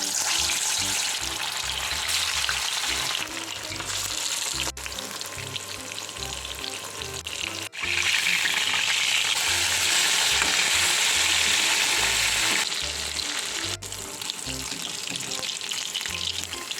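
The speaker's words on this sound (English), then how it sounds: "At the same time, I will also fry marinated fish." Marinated fish frying in a pan, a loud continuous close sizzle that swells and eases, with a few sharp clacks and occasional stirring, no voices.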